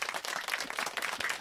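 Applause from a small studio audience at a Spanish-language talk show, a dense patter of claps filling the moment at moderate, slightly distant level, with no voices over it.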